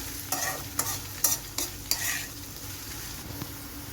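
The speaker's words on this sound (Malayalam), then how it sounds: "അപ്പം നമ്മളുടെ ഇഞ്ചിയും വെളുത്തുള്ളിയൊക്കെ ഒരു പകുതി മൂപ്പായിട്ടുണ്ട്" Ginger and garlic frying in oil for a fish pickle, a soft continuous sizzle under a few sharp scraping stir strokes of a spoon against the pan, close and clear, without speech.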